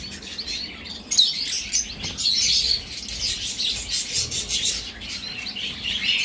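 Caged pet birds from a bird-breeding house chirp and tweet in rapid, high, overlapping bursts, fairly close, with occasional wing flutters.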